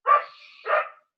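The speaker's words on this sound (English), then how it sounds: "Whose dog is that?" A neighbor's dog barks twice in quick succession, two loud, close yaps separated by a brief softer whine, heard alone with no talking.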